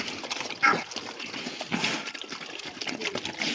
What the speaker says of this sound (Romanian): Ia uitați ce mâncă făină.